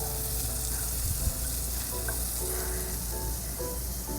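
Burger patty sizzling on a griddle, a steady, fairly loud frying hiss with crackle throughout and one brief knock partway.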